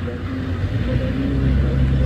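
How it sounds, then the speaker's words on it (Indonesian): A tanker truck driving on a hill road, a low engine rumble with gear-laden drone rising slightly, close by, with some voices faintly over it. "Truk tangki."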